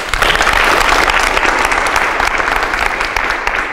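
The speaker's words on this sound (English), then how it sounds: "Big round of applause." A group claps for a young athlete at a youth strength training session, dense and even applause that stays loud and close for several seconds.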